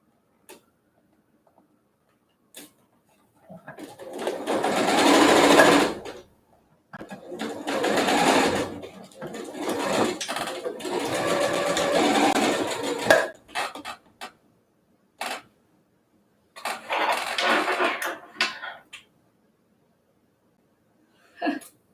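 A sewing machine stitches delicate fabric for a surgical mask, running in several sustained bursts of a few seconds each with quiet gaps between, near and steady.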